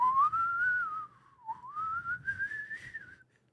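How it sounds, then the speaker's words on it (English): A person whistles a wavering, sliding tune, rising and dipping in pitch, with a short break midway, close and clear over faint background noise. "that was a fucked up whistle."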